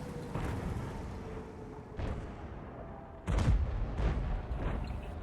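Tank cannon fire in the online battle game World of Tanks, with an IS-4 heavy tank shooting: several heavy booming shots spaced a second or so apart, the last one loudest and closest, over a constant rumbling battlefield background.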